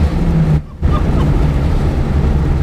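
A 310 bhp Duratec turbo Mk5 Ford Fiesta built from a brand new car, its engine roaring loud and close under hard acceleration, with a brief cut in the noise as it shifts before pulling on strongly.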